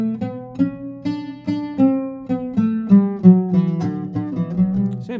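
Plucked oud notes climb step by step through a maqam scale, each note ringing briefly over a low sustained drone, close and clear.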